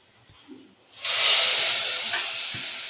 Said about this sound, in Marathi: फोडणी दिली आमच्याला